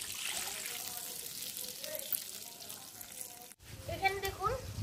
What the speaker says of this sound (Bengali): বাটিটা মেপেই আমি 2 বাটি জল এখানে দিয়ে দেবো।